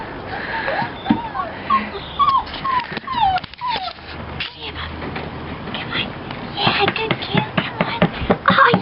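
Belgian Malinois puppies whimper and yip in short, high, rising cries scattered across the clip, with a dog close by and occasional background noise and voices.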